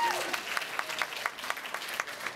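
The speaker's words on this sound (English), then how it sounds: "Give yourselves a round of applause." Audience applause at a stand-up comedy show, a steady patter of many hands clapping with scattered louder claps, moderately loud and with no talk over it.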